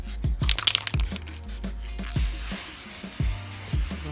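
A spray can applying even coats of paint during a home decor project, with a steady broadband hiss running through the second half after some clicks, rattles and handling knocks at the start.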